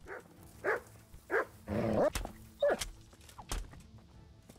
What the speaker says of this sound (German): ich muss deinen Hund leider töten